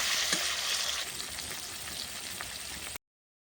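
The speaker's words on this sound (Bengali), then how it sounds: "তেলটা গরম হয়ে গেছে পটলগুলো ভেজে দেবো" Pointed gourd sizzling and frying in hot mustard oil on a clay stove, a steady loud crackle with a few stirring clicks, then an abrupt cut to silence near the end.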